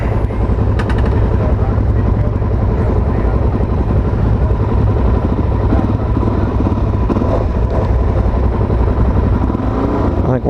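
A 2019 Suzuki DRZ400 SM carbureted motorcycle engine idles while warming up, giving a loud, steady low rumble with a fast, even putter that continues throughout.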